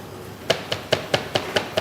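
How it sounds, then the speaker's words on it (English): Knife chopping garlic on a board while preparing crisp sea bream with sauce vierge: seven sharp, evenly spaced taps in quick rhythm, close and fairly faint, with no voices. "So keep chopping until you have a nice small garlic."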